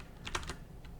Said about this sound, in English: And now, as I start typing